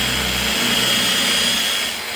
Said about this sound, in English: It's because I'm edge drilling plywood